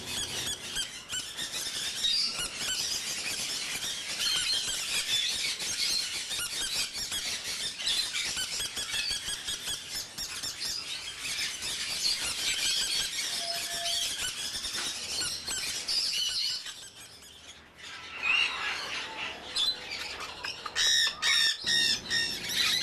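A family of green-cheeked conures, five chicks and two adults, squawks and squeals in rapid, overlapping harsh calls, fairly close and nearly nonstop, with a brief lull before a final burst of shrill cries.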